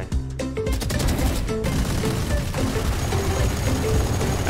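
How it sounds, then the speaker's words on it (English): Dense, continuous gunfire fills a Valorant match, with rapid overlapping shots and sharp bursts throughout, loud and cluttered with a few tonal game effects on top and no talking. "Everyone's shooting over there"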